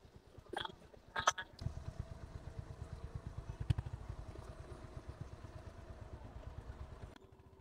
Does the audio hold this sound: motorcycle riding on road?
yes